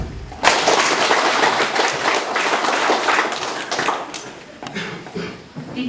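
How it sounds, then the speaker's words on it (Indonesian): An audience claps at the closing of a village training on environmental cleanliness, sanitation and waste processing, a burst of dense, close applause that carries on for several seconds and then tapers off. "Tepuk tangan."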